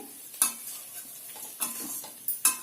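A spoon scrapes and stirs idlis through a tempering pan, with several sharp clanks against the metal over a faint sizzle, close and fairly quiet.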